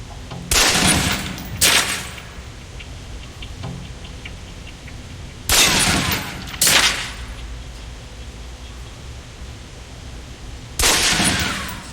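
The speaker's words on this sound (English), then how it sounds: "Equip the pistol, then aim down range and take some shots at the target." Pistol shots fired at a range target in Alpha Protocol, loud sharp reports arriving in pairs, three bursts of two shots spaced several seconds apart over a quiet background.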